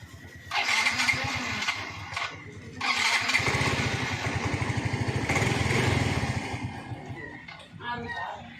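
A Yamaha Mio i125 motorcycle engine runs steadily after repair, a close mid-pitched putter with a rhythmic low pulse that starts, cuts briefly, then resumes for several seconds before dropping off near the end.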